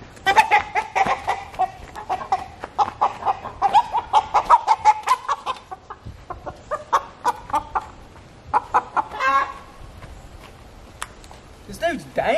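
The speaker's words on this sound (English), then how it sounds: "He's going to be clucking for an hour until I can get him." A rooster's repeated clucks and squawks sound close and loud in rhythmic bursts, with someone talking between and over the calls.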